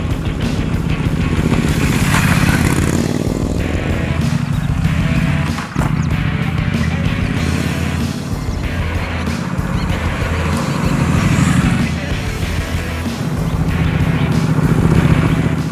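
Triumph Street Scrambler motorcycle ridden in off-road mode, a loud, near engine drone that swells and eases in waves with wind rush, one brief dip midway, no talk.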